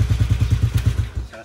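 A motorcycle starter cranks the engine in a rapid, even series of about ten rough chugging pulses, close and loud, then cuts off; the starter sounds coarse.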